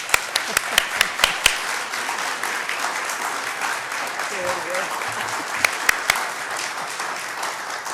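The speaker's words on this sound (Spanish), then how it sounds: "Quiero pedirles un gran aplauso para Marcia Scantlebury." Audience applause at an awards lecture, loud sustained clapping with a few sharp individual claps at the start, fading down near the end.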